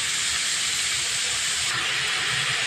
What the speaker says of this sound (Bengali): খুব সুন্দর করে লাউটা ভেজে নিতে হবে। দু 3 মিনিট ধরে লাউটা ভেজে নেব।